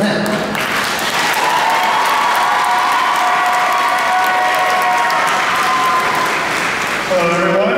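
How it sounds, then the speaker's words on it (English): A convention crowd at a cosplay masquerade applauds and cheers for the hosts and judges, dense clapping with whoops and shouts rising over it before tapering near the end. "so if I can get a round of applause for them."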